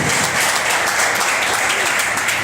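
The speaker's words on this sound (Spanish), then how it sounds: "Si está aquí, aplaude al Señor en esta noche." A church congregation applauds during an evening service, a dense, loud wash of clapping that fills the whole stretch without pause.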